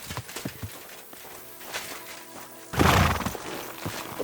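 Horse riding in Kingdom Come Deliverance II, with hooves clip-clopping and a horse whinnying amid game ambience; a louder burst of hoof and movement noise swells near the end.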